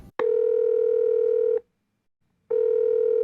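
A telephone call rings out on the line with a steady electronic tone, two long buzzes separated by a short silence, clear and close with no voices.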